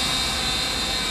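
A Teng Mini KF609 toy drone hovers close by with a steady, high-pitched whirring buzz from its small propellers, loud and unbroken.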